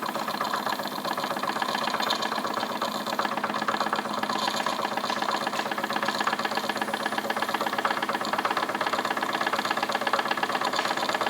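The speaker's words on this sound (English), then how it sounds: "the engine's running quite eagerly" A small Wilesco D20 model steam engine chuffs steadily and quickly, a continuous rhythmic mechanical beat with a faint hiss underneath, no talking.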